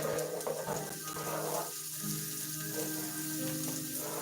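Otik's spiced potatoes fry in a skillet over medium heat, a steady close sizzle with soft crackles and faint stirring scrapes, no voices.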